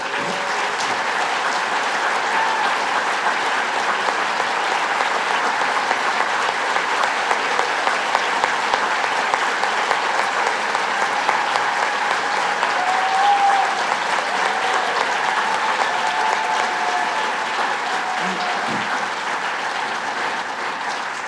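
A large audience at a gala dinner applauds steadily for over twenty seconds, a dense continuous wash of clapping filling the room at even loudness.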